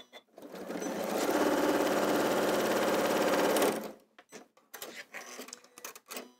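A fast sewing machine stitches quilt fabric in a steady loud whirring run for about three seconds, then stops, followed by scattered clicks and handling noises.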